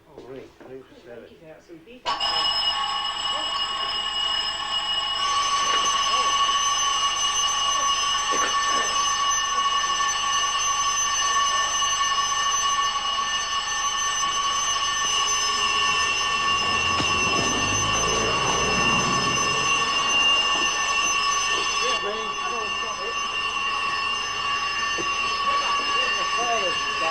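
A fire alarm bell rings continuously and loudly in a shop for most of the stretch, with faint talk beneath it before it stops.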